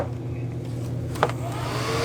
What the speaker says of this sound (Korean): 이게 좀 잘 안 떨어질 때는 드라이기로